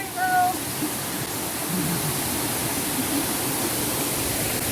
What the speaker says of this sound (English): As you can see the water going down into the pool below.